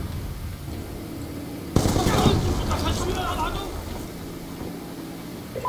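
Sentry gun fire in Call of Duty breaks out suddenly after a quiet stretch, a dense burst of automatic gunshots that fades into rumbling game noise, with a voice talking over it.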